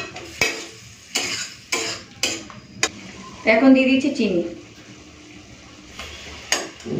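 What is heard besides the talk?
stirring spices and water into fish curry in a pan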